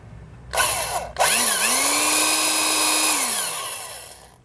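A power drill with a waxed bit bores a hole in one close, loud run. After a short start and a brief stop, the motor spins up and whines steadily at a constant pitch, then winds down as the drill is released.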